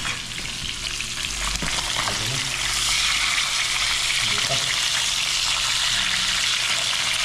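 Loud steady sizzling and crackling of fish frying in hot oil, continuous throughout, with a few brief spoken words over it.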